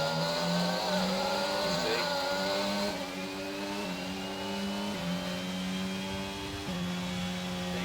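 Race car engines of a McLaren and a Ferrari in a racing video game drone loudly and continuously, pitch climbing through gears with several shift steps, two engines layered close together.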